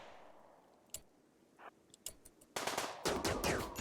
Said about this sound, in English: It turns out getting hit by that gun turret really didn't suit them very well.